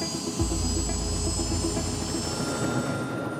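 Police helicopter in flight over a large US county, a steady, moderately loud rotor and engine drone with a deep rumble near the start, continuous and without speech.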